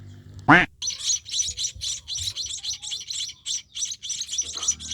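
Small birds chirp in a dense, rapid chorus close by, with one sharper squawk near the start and steady twittering throughout.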